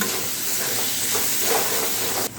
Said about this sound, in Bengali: এবারে সব কিছু মিশিয়ে দিয়ে আরও এক থেকে দুই মিনিট রান্না করে নিতে হবে